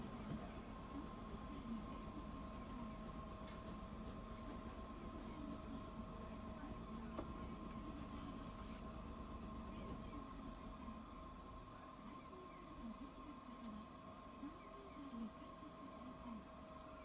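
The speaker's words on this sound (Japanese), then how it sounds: "はい、列車動きます。" Tosaden tram running on the Ino line in Kochi, heard from inside the car as a quiet, steady low rumble and hum of the running car with a faint tonal drone throughout, no talk.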